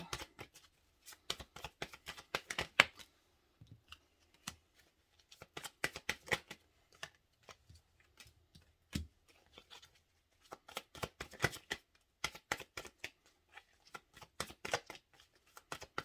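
A deck of tarot cards is shuffled up close in a quiet room, with repeated bursts of crisp riffling and flicking separated by short pauses, and no talking over it.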